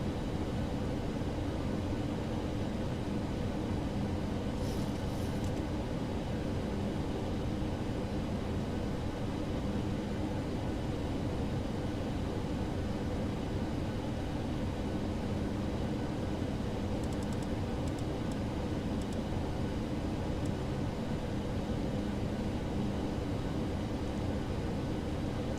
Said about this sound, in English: After landing we'll be vacating to the right, taxiing to the apron.